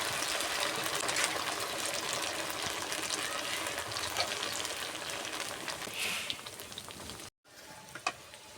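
Langcha sweets made from flattened rice and potato fry with a steady, soft crackling sizzle that lasts several seconds, broken by a brief cut near the end before the bubbling resumes.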